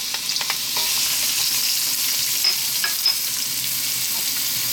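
Sliced white onion and chopped garlic fry in olive oil, a loud, steady, bright sizzle with a few scattered pops and stirring clicks, heard alone without talk.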